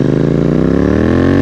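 A modified Royal Enfield GT 650 fitted with clip-on handlebars thrums loudly up close, its twin-cylinder engine pulsing in a fast, even beat as the revs climb slightly over a brief burst.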